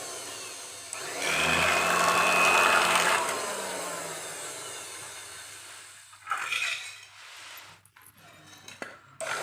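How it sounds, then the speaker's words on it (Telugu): An electric cutting machine slicing through a stack of bag pieces gives a loud whirring, grinding burst for a few seconds. Quieter handling noises and short scraping bursts follow near the end. "ఇప్పుడు కటింగ్ మిషన్ పెట్టి కట్ చేసుకోవాలి."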